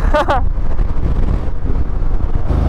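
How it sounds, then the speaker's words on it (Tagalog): Strong wind buffets the microphone in a steady, loud roar throughout, on a seaside boulevard, with a brief whistling tone near the start. "Napakalakas ang hangin."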